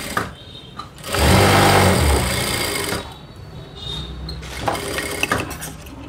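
A sewing machine stitches a blouse, producing a close, fast mechanical whirr in one loud burst of about two seconds, followed by quieter intermittent machine ticking and handling sounds.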